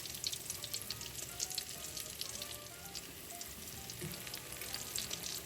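Apple fritter batter frying in hot oil gives a steady, dense crackling sizzle with a busy bubbling hiss throughout, close and even, with no voices.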